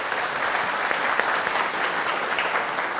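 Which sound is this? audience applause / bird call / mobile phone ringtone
audience applause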